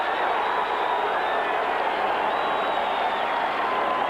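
A very unhappy Tampa Bay football stadium crowd roars steadily, a dense, loud wall of massed voices with whistles cutting through, unbroken from start to finish.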